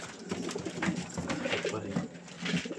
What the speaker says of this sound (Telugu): ఈ పావురాలు చూడండి